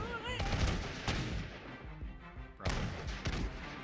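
Muskets and cannon firing in a video game battle: sharp, loud reports with several overlapping blasts and booming thuds in quick succession.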